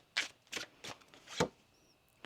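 A deck of tarot cards is shuffled in several separate riffles, each a short papery burst, close and fairly quiet with brief gaps between.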